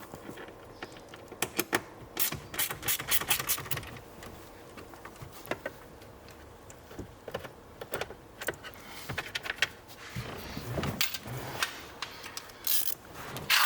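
Screws being undone from the dashboard of a MINI Cooper R50/R53, a close run of ratcheting clicks and metallic ticks in uneven bursts, with clinks and rattles of small parts and no voice.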